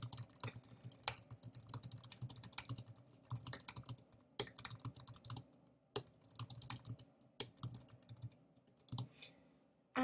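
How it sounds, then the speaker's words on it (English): Typing on a computer keyboard, a steady run of close, quiet key clicks in uneven bursts with short pauses between them. "The next thing you want to do is type in your information."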